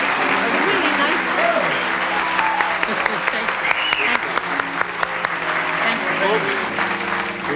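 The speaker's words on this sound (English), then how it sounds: "now that's more than applause. That's an ovation." A television studio audience gives an ovation on a music show, with loud, sustained clapping from a large crowd and scattered whoops. Faint tones from the band and brief voices sit underneath.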